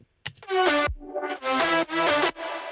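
An electronic melody with wavy volume automation pulses in choppy, stuttering bursts, several loud swells cut by sharp drops and a brief downward sweep, played alone.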